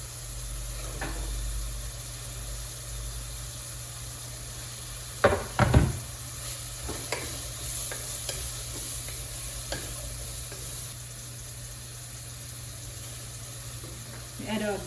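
Onions fry quietly in a pan with a soft, steady sizzle, broken by a few sharp clatters and stirring knocks near the middle and scattered light taps afterward.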